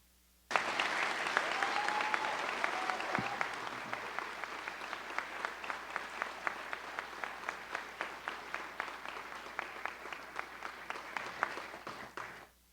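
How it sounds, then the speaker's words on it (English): An audience at a police department awards ceremony breaks into loud applause that starts suddenly, holds as a dense wash, then slows into a steadier, rhythmic clapping before stopping. "After we do one more round of applause"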